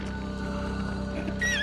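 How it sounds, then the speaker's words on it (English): A horse in the video game Resident Evil Village gives a brief, bright whinny near the end, rising over a steady low ambient drone. "That's his horse."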